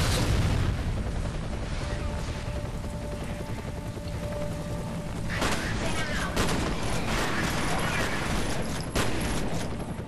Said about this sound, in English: Just go ahead and preemptively throw that grenade.